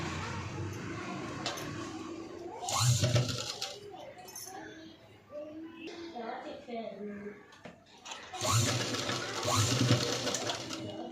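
Two bursts of a sewing machine stitching fabric lining for a princess-cut garment, quick rapid chatter separated by a pause, with someone talking quietly in between.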